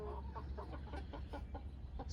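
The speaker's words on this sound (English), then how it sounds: "our backyard chickens, which we can take a look at this morning" Ten backyard hens, about 14 to 15 weeks old, cluck softly in a steady, repeated pattern against a low background rumble, all at a faint level.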